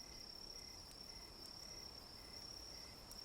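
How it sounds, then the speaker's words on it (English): A continuous chorus of crickets chirping at night, soft and distant, with a steady high trill and a few slightly louder pulses. "Crickets."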